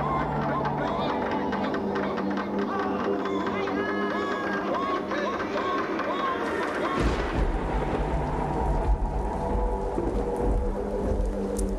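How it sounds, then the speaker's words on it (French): A thunderclap bursts midway through a thunderstorm as a deep, loud rumble over steady rain, layered with sustained tonal sounds throughout. "c'était un coup de tonnerre"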